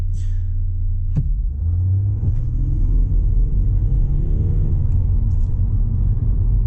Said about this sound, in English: Let me just quickly do a 0 to a 50 kilometer hour acceleration.